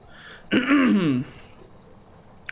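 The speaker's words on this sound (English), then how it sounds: "Sorry I'm coughing all the time." One short, rough throat-clearing cough close to the microphone, lasting under a second, followed by near silence and a faint click.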